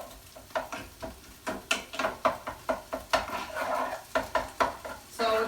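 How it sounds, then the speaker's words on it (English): Ground beef cooking in a pan is chopped up with a quick run of sharp taps and scrapes against the pan over a faint background sizzle, close by, with no talking. "I'm just going to come over here and chop my ground beef some too"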